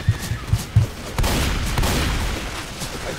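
Gunfire in the zombie shooter Left 4 Dead 2: a few quick sharp pops in the first second, then a loud sustained burst of shooting that rattles on to the end of the short moment.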